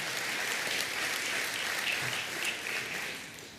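A church congregation applauds steadily, dense clapping that holds for a few seconds and then begins to fade toward the end, with no speech over it.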